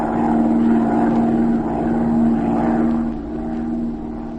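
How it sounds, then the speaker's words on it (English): In a radio drama, a propeller plane circles over a city with a steady droning engine hum that slowly rises and falls, close and continuous. "Z and Patricia Norwood took off in Z's plane and began to circle lazily over the city"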